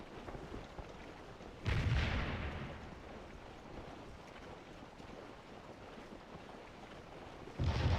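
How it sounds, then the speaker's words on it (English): Union artillery in the Civil War game Scourge of War: heavy cannon booms, one near two seconds and another at the very end, roll out over a low ambient wash, fairly distant and muffled. "Yankee artillery, pretty heavy."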